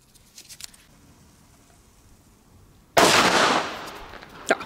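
A sudden burst of small butterfly fireworks crackles after a quiet stretch, a dense sizzling pop that fades, with a few sharp snaps following.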